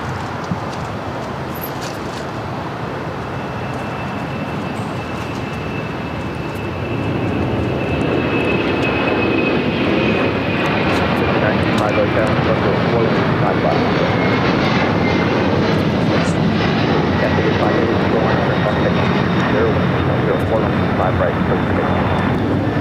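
A Boeing 777-300ER jet taking off from runway 24 left at LAX, a loud steady engine roar that swells and thickens midway, with a faint whine riding on top and a voice talking now and then beneath it.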